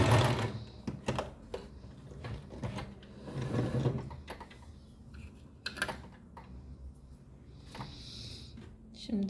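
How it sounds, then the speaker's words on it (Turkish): A sewing machine runs a brief reverse stitch on fabric while sewing a garment for a Sphynx cat, its quick mechanical rattle coming in short close bursts with pauses, and a person speaks over parts of it. "En sona geldiğimde de bir çok az ters dikiş yapıyorum."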